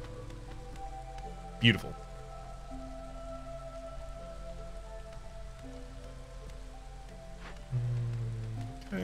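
Light drizzle in the video game Against the Storm patters softly and evenly beneath sustained in-game music tones, and a voice briefly speaks over it.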